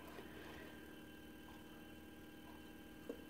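A Bedini motor runs on low voltage, giving a faint, steady mechanical hum with a continuous whir and a small click near the end.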